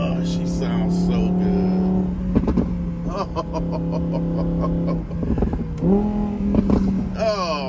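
An Audi RS6 Avant engine, cold and loud, drones and revs with sharp cracks and bangs popping on downshifts, steady engine hum throughout and voices talking over it.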